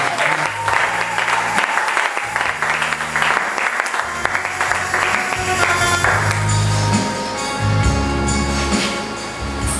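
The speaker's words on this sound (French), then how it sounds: "Applaudissez pour le Seigneur." Church congregation applauding during a service, a dense, continuous clapping crowd filling the room, with some voices and low musical tones mixed in underneath.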